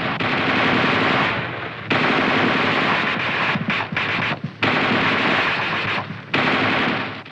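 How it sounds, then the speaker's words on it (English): An M551 Sheridan's coaxial machine gun fires repeated sustained bursts of about 20 to 25 rounds each, loud and close, with brief pauses between bursts. "The gunner continues to fire in 20 to 25 round bursts until he receives the command, target, cease fire"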